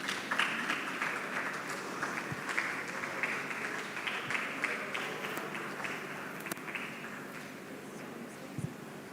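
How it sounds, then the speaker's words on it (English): A tech summit audience applauds steadily for several seconds, a dense, even wash of clapping heard from a moderate distance. "A round of applause for them as they come, please."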